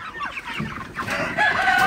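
Broiler chickens clucking at dawn during an early-morning farm sale, with several birds overlapping in steady, close clucks and a brief crow-like call, the calls growing louder toward the end.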